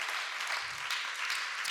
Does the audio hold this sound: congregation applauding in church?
yes